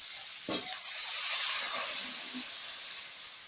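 Water poured into a hot pan after green beans were fried and set aside, a sharp splash at the start giving way to a loud, steady hiss of steam and sizzling that holds for several seconds.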